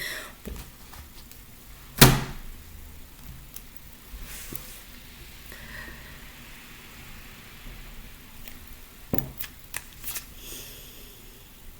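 Tarot cards are shuffled and drawn nearby, with soft riffling and sliding, one sharp slap of a card and a few scattered taps over a quiet background.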